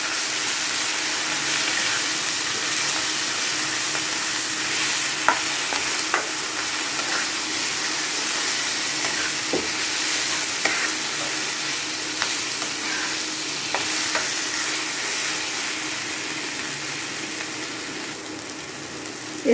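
Dal tadka mixture of tomatoes and spices frying and being stirred in a pan, a continuous loud sizzle with intermittent spoon clicks and scrapes throughout, no talking.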